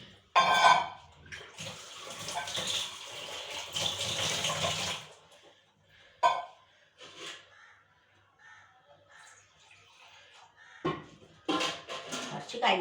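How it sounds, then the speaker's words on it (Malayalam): Bursts of water splashing and pouring into a pan of beetroot stir-fry, stopping and starting, with quieter gaps and a brief clatter in between. "വെള്ളം കൂടെ പാർന്നു കൊടുക്കുക"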